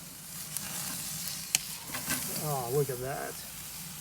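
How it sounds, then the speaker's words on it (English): Tri-tip beef hisses and sizzles steadily on a hot grill, with a brief sharp tap and a voice speaking over the sizzle. "That's sizzling away, crust building up."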